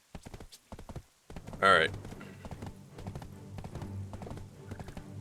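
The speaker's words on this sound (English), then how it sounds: "so the people aren't watching me ride the horse around" Horse hooves clip-clop in a rhythmic run while riding in the online game Black Desert Online. A brief whinny rises partway through, and a voice talks over the start.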